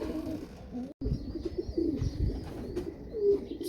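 Pigeons or doves coo softly at close range, with low repeated cooing calls over faint rustling and a short gap near the start.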